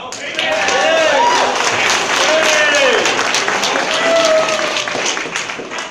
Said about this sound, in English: All that applause was for you.